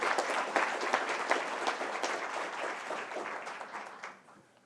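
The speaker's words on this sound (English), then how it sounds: "Let's give them a great big applause" Audience applauding at a school board of education business meeting, a steady wash of many hands clapping that carries on for several seconds and then thins out and fades near the end.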